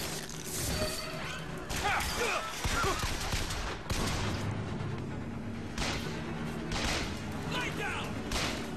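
Gunfire aimed at enemies in Bioshock Infinite comes as bursts of sharp shots mixed with clanking mechanical sounds and crashing impacts, with voices talking in between.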